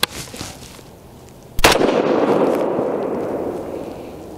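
A single sharp crack from a 22 ARC rifle firing a 62-grain ELD-VT bullet over Accurate 2230 powder, followed by a long rolling echo that slowly fades outdoors.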